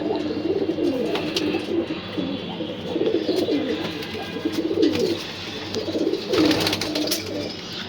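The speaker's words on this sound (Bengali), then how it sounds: "একটা কিউট কবুতর দেখাই আপনাদের" Pigeons cooing close by in a home loft, repeated low throaty coos in a steady rolling rhythm with a few soft flutters and rustles, no talking.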